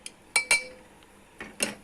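A metal spoon stirs urad dal porridge in a pot, giving a few sharp clinks against the pot's sides in two brief clusters, quiet between them.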